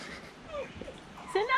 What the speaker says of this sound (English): It's another puppy.